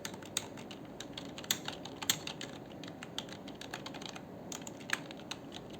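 Rapid, uneven clatter of keys being typed on a computer keyboard while writing a document in MS Word, close and steady with sharper key strikes scattered throughout, no talking.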